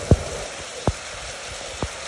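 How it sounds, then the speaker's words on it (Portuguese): Heavy rain falls at a house in Varjota, with a steady wash of rain noise and three distinct, irregular drip or splash impacts standing out nearby. "Chuva forte, ó."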